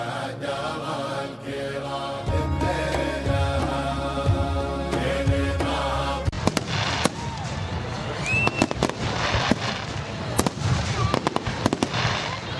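Fireworks at an outdoor Saudi Founding Day celebration: after a stretch of steady music-like background, sharp crackling bursts and pops follow in quick irregular succession, loud and fairly near.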